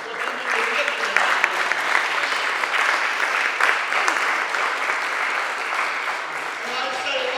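Audience applause after a call to honor a speaker at an African diaspora gathering; dense, steady clapping from a crowd that holds evenly throughout with a few voices mixed in.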